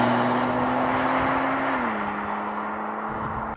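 A 2022 Genesis G70 sedan drives off, its engine note loud and close, holding a steady tone before shifting down slightly as the car pulls away, with no voices.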